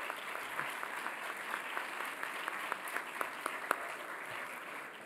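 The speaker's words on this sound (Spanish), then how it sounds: "Les pido un aplauso para ellos, por favor." Fairly faint applause from an audience at an engineering symposium greets the winning industrial engineering team, with steady clapping carrying through and a few sharper individual claps standing out near the end.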